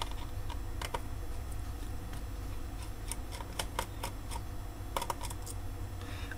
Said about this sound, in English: So, more screws to undo.